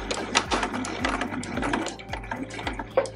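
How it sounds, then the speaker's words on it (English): A sewing machine stitches fabric for a giant scrunchie in quick, even bursts, its rhythmic mechanical chatter starting and stopping as the seam is sewn forward, backstitched and run forward again, close and moderately loud. "And then just stitch straight down. And then do a little back stitch. And then forward again."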